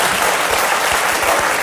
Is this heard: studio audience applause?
yes